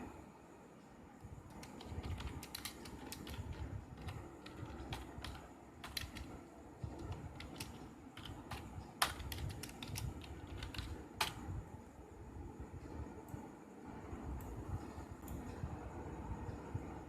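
Someone types a comment on a computer keyboard, producing a steady run of soft, quick key clicks with a few sharper taps. The sound is quiet and close, with no voice over it.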